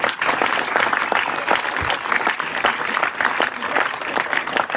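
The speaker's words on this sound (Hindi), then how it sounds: "मैं आशा करता हूं कि आप जोरदार तालियों के साथ इन गुरुओं का अभिवादन करेंगे।" Loud, dense applause from a school audience at a farewell gathering honours the teachers. It is a continuous wash of many hands clapping, with individual claps standing out, and sustained throughout.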